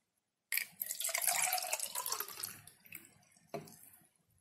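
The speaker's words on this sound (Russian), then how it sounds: "Я сейчас наливаю воду," Water poured into the container of an oral irrigator, a bright splashing stream that starts abruptly, runs steadily, then trails off with a final small splash and drips.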